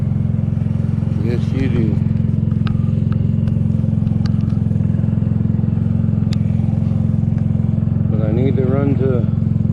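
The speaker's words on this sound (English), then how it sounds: "This is the fun thing about carbureted bikes. You gotta let them warm up." A carbureted Kymco People 250 scooter idles while warming up on a cold 40-degree night, giving a loud steady low drone throughout, with a voice speaking over it at moments.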